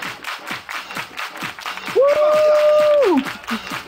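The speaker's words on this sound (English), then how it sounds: "Everybody clap your hands." A crowd at a wedding party claps hands in a rhythmic beat, with a loud sustained whooping shout rising over the clapping partway through.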